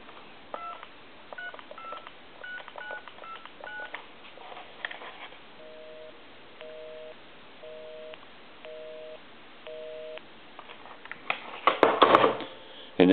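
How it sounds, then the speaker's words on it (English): Dialing tones sound from a Telemania car telephone fitted to a Lamborghini: a rapid run of short paired touch-tone beeps, then a slower series of evenly spaced repeating tones, ending in a brief burst of clattering noise. "Now I want to call my number, give you some dial tone"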